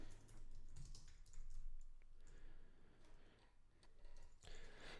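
Quick, fairly faint bursts of keystrokes on a computer keyboard while code is being entered, clicking in uneven runs with short pauses between them.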